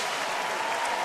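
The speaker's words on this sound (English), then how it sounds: "Sanchez about to get himself a big round of applause" A baseball crowd in Detroit applauds loudly and steadily for a departing pitcher, a dense wash of clapping with no break throughout.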